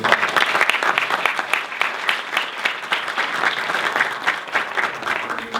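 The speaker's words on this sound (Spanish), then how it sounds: "Les pido un aplauso para él." A university audience applauds steadily at a tournament final, a dense wash of many hands clapping at close range for several seconds with no voices.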